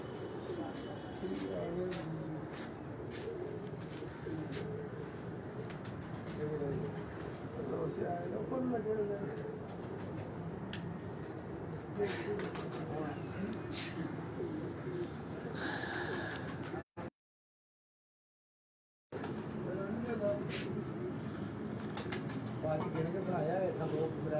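Pigeons coo softly in a low, continuous murmur from a loft. Voices talk over them, and a short silent gap breaks the sound near the end.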